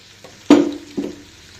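A spoon clanks against a pan while eggplant masala curry is stirred after gravy is added, giving two distinct knocks with a soft sizzle trailing after each, close and without talk.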